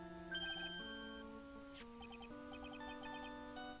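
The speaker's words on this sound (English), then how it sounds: "That's a really nice ringtone." A phone ringtone melody from the video game Phoenix Wright: Ace Attorney: Trials and Tribulations plays as clear, steady electronic tones in a repeating tune, loud and alone.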